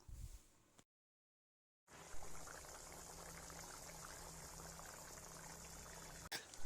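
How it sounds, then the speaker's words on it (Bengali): Chickpea ghugni gravy, a Bengali cholar ghugni, boiling on high heat: after a short silent gap, a steady, close, continuous bubbling and hiss of simmering liquid carries on until a small clatter near the end. "যতক্ষণ না ফুটে জলটা একটু কমে যাচ্ছে ততক্ষণ আঁচটা হাই থাকবে"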